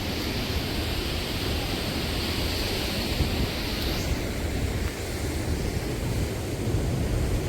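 Continuous broadband roar of sea waves at a beach about 8 km from Kozhikode, steady and fairly loud with slight swells in intensity, mixed with wind noise and no voices.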